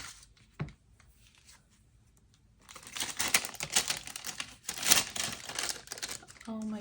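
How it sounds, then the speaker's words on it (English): Packaged sticker sheets are opened with close, crisp crinkling and tearing of plastic wrap, a soft tap first, then a few seconds of busy rustling that swells and fades. "and then let's open the sticker sheets."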